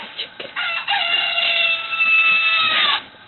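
A noisy chicken gives a long, drawn-out crow lasting a couple of seconds, preceded by a few short clucks, loud and close, with a thin, band-limited sound.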